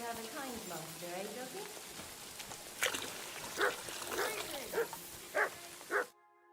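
Short barks from a dog in a role-playing video game, several sharp bursts spaced through the clip over steady game ambience, with a voice talking early on.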